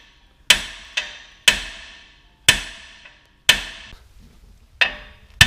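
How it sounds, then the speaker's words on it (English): A ball peen hammer strikes a steel tie rod on a Jeep Wrangler LJ to shock it loose: seven sharp metallic blows, each ringing briefly before fading, spaced roughly half a second to a second apart, close and clear with no talking. "now we're gonna beat it with a ball peen hammer to go ahead and release"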